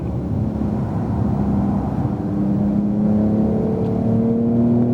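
A 2018 Porsche 911 Turbo S engine accelerates hard on a racetrack, a loud, steady rising drone with climbing harmonic tones through the whole stretch, no gaps or voices.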